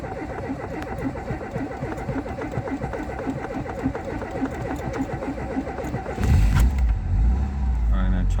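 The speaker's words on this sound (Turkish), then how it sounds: "Şimdi benzinden çalıştırdık da benzinden pek dengede çalışmıyor araba." A petrol car engine cranks with a rhythmic starter whirr for about six seconds, then catches and fires into a louder, rough running roar near the microphone, with speech over it.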